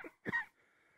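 A person coughs once, a short, quiet, close burst followed by faint breath and silence.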